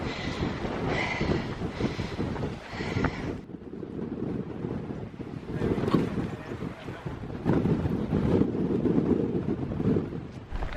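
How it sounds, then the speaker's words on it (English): Strong wind buffets the microphone at the clifftop of Tintagel in Cornwall, with rough low gusts that rise and fall, dip briefly, then roar back louder. "It's about to get windy."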